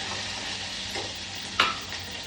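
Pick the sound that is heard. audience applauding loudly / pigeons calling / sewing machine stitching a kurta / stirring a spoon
stirring a spoon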